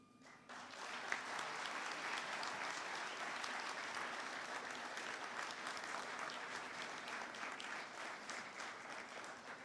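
Sustained audience applause closing a panel on open justice held by Ecuador's public defender institution, a dense steady clapping that starts abruptly and continues evenly for several seconds, fairly distant and with no speech over it.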